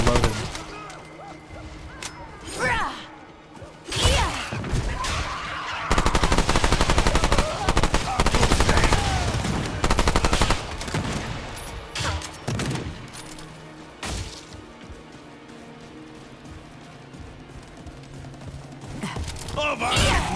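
Gunfire in the video game Remnant II, loud bursts and rapid volleys of shots separated by quieter gaps, with game voices speaking in places.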